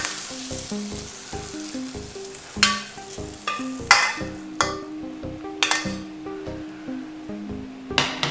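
Pork meat hisses and sizzles as it lands in a breakfast casserole pan, with steady frying under sharp utensil clanks and scrapes against the pan at close range.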